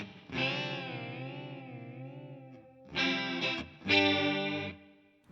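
Electric guitar through a TC Electronic chorus set to roughly half dry and half modulated signal, a long wavering chord followed by two shorter strummed chords, shimmering and close, with no talking.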